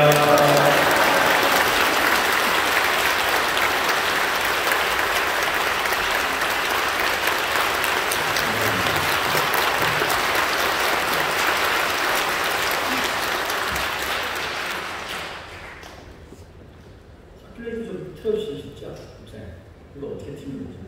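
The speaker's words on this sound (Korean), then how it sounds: "목사님 뜨거운 박수로 맞이하겠습니다" A church congregation claps warmly to welcome the pastor, loud dense applause filling the room for about fifteen seconds before it dies away and a voice starts speaking over faint room sounds.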